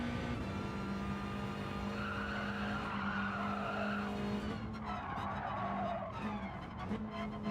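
A race car in Gran Turismo 7 dips a wheel into the gravel during online lobby racing, with a steady engine note overlaid by tyre scrubbing and skidding noise, and the engine pitch shifts midway through.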